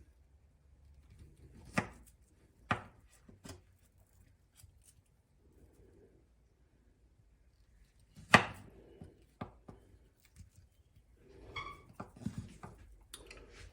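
A knife slicing through a plantain on a board for sweet fried plantains, a few sharp, separate cuts spaced seconds apart, quiet and close, with a faint murmur between.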